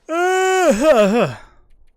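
A real human yawn, close and loud, rising in a long sustained tone before wavering and trailing off into a breathy exhale.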